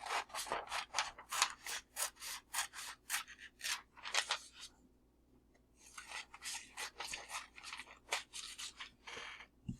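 Close, crisp scissor snips cutting through paper in a quick, steady rhythm, with a short pause midway before the cutting resumes.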